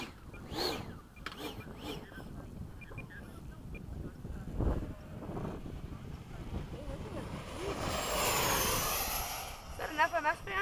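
An F-104 jet aircraft roars past at speed, a whooshing rise and fall of engine noise with wind buffeting, while people talk nearby.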